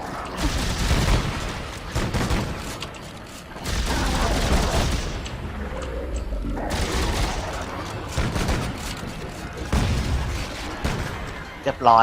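Bursts of gunfire in the Dead Space 3 co-op game come in loud volleys across the clip, with players talking over the shooting throughout.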